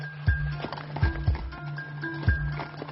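A horse's hooves clop on a steep, rough mountain trail, several dull thuds in an uneven walking rhythm, close by, with a steady low hum and faint background noise.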